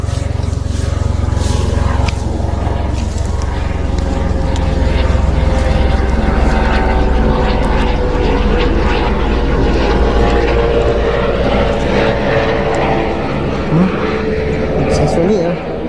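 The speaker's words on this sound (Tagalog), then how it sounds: "May aeroplano doon, ay helicopter dumadaan." Outdoors during an airgun fishing trip, a helicopter passes overhead with a loud, continuous engine drone. The sound swells slightly and fades over several seconds.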